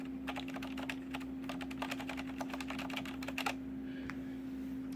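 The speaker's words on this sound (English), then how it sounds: "So that's what the Cherry MX Red silent keys sound like." Steady, soft typing on a keyboard with Cherry MX Red silent switches, muted, rapid keystrokes over a constant low electrical hum, then a few isolated taps.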